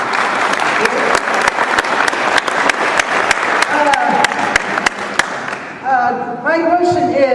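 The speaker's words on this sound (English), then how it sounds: "So can I have some applause for you guys?" Audience applause at a public meeting about local wildfires: steady, dense clapping from a crowd that fades near the end as a voice begins speaking.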